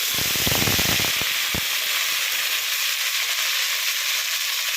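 Onion, green chili and mint sizzle loudly in hot oil, a steady bright hiss throughout, with a few sharp crackles and spatters in the first second and a half as they hit the pan.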